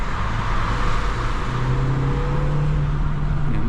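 A 2009 Škoda Octavia 1.8 T (150 hp) engine hums and climbs in pitch as it accelerates in second gear, steady and close, heard from inside the car.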